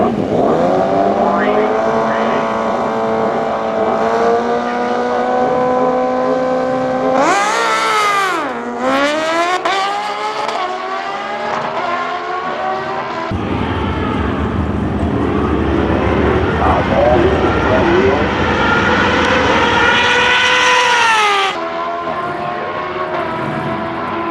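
A Kawasaki Ninja H2 drag-racing motorcycle, engine held at a loud high whine, then a sharp rise through gear changes as it launches, a rough roar and another climbing pitch before cutting off, with a commentator talking over it.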